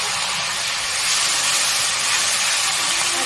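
Ginger garlic paste hits frying onions in hot oil, giving a loud, close, continuous hissing sizzle that swells a little and holds steady throughout, with no talking.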